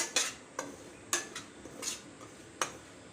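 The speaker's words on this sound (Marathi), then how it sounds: "रवा कंटिन्युअसली फिरवत राहायचा आहे आणि छान असा भाजून घ्यायचा" Semolina roasting in ghee in a pan on a low flame, stirred continuously with a spoon, giving a few sharp scraping clinks at irregular intervals over a soft steady background.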